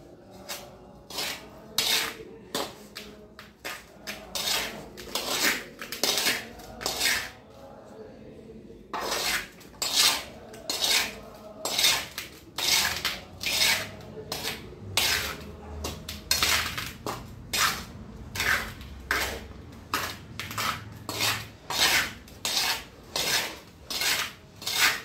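A mixture for a flower pot being mixed by hand, heard as repeated rasping, scraping strokes in a steady rhythm, close and fairly loud, with brief pauses between bursts.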